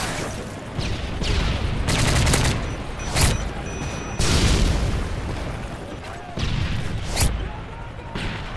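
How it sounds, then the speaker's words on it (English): Airstrike explosions and rapid gunfire in the online shooter game Call of Duty MW3: loud booming blasts and sustained bursts of fire overlapping in waves, with several sharp detonations standing out. "Friendly airstrike on the way."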